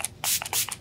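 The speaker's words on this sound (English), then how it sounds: "Probably spray it on my arms too." Makeup setting spray hisses from a pump bottle onto a face and arms in a few quick bursts, close to the microphone, with no talking.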